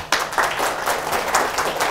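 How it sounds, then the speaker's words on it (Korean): An audience at a Korean consulting lecture claps in a brief, dense burst of applause, quite close, with overlapping hand claps and no voices heard. "박수 한번 쳐주세요"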